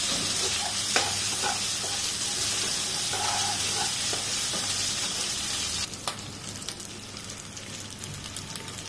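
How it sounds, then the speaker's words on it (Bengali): Loitta dried fish stir-fried with chopped onions in a village kitchen: a loud, dense sizzle with stirring scrapes throughout, settling into a quieter crackle for the last few seconds, with no voices. "পেঁয়াজ কুচি ভাজা হয়ে গেলে দিয়ে দিলাম কেটে রাখা লইট্টা শুটকি"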